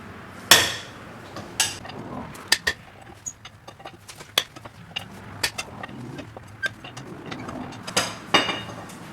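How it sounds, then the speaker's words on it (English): Metal clanks and sharp knocks ring out irregularly as a crowbar works at removing the wheels of a Pontiac Fiero with a 2.8 V6, close and distinct over a quiet garage background, with no speech. "now we're going to remove the wheels using the Fiero crowbar"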